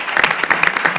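An audience claps for newly introduced police commission members at a Detroit meeting, a dense, steady burst of loud applause with no talking.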